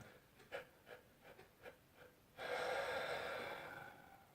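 A person demonstrates panting breathing during a relaxation exercise: a run of short, quick, evenly spaced breaths, then a longer, louder sustained breath of airy noise. The breathing is close and quiet, with no talk.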